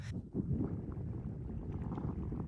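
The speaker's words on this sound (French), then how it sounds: "Beaucoup de vent." Low, gusty wind buffets the microphone in a steady rumbling roar, with a brief rustle at the start.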